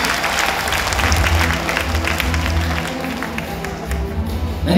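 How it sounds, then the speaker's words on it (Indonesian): Loud, dense applause from a seminar audience in Tangerang, a steady roar of many hands clapping with some crowd noise, rising again at the very end. "tepuk tangan dulu buat Anda semuanya teman-teman"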